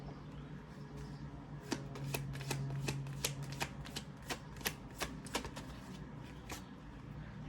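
Tarot cards are shuffled and pulled by hand, a rapid series of crisp riffling snaps and slaps close up, with no talking.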